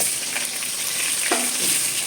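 Steady hiss of potatoes frying in hot oil with panch phoron, with a soft clatter as something is stirred or added partway through; no voices.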